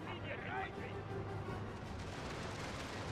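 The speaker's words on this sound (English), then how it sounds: "Oh, we are getting fired upon already." Artillery and gunfire from the Scramble for the Far East strategy game, a steady rumbling battle din of booming shots that runs under a voice throughout.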